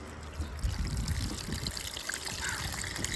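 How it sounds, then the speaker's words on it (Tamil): Tamarind water poured into a simmering red snapper fish curry, a soft continuous trickle and splash close by, fairly quiet and without talk. "புளி அரைச்சி ஊற்றிக்கலாம்"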